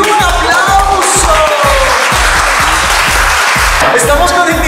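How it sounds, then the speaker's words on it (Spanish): Loud crowd applause in a Zumba dance fitness class, clapping steady and dense throughout, with a regular beat of music pulsing underneath and voices mixed in. "¡Un aplauso!"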